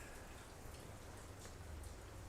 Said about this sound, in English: there's so much rain going on right now